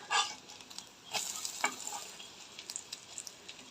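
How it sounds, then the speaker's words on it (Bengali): An egg fries in a pan with a steady hiss of sizzling, broken by a few sharper scraping and stirring bursts from a utensil, all close and without speech. "এই দেখুন তার ডিম ভাজা হয়ে যাচ্ছে।"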